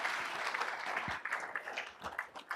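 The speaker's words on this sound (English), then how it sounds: "All right, let's give them a round of applause." An audience at a regional conscious capitalism gathering applauds the speakers, a faint, fairly brief burst of clapping that thins out toward the end, heard alone.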